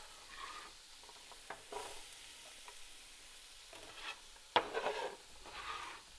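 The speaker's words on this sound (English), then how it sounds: "And then we're just gonna saute this until it really starts to caramelize" Onion, carrots, celery and shallots sauteing in olive oil on a stove for lasagna from scratch, a soft steady sizzle with occasional stirring scrapes and one brighter crackle burst partway through.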